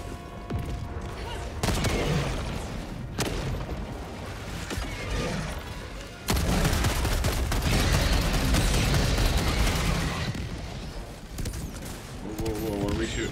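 Sentry gun in Helldivers 2 firing amid a battle: dense, loud bursts of automatic fire and mechanical clanks, with a sudden heavier surge midway and some game voices mixed in.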